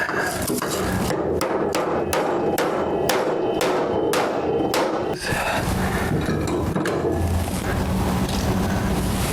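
A part is hammered into the spindle of a Hustler zero-turn mower deck during a rebuild, with a series of sharp metallic blows in steady rhythm for about five seconds, close and loud over a constant background hum.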